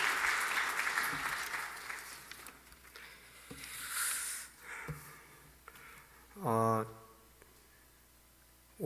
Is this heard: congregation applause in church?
yes